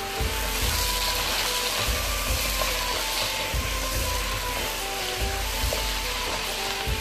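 Chicken korma sizzles and fries in a pan during bhunai roasting, a continuous crackling hiss broken by periodic scraping stirs, close and without talking.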